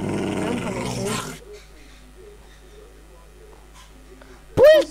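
In Minecraft, a voice talks at first, then near-quiet game ambience follows before a short, loud, wavering dog growl closes the moment.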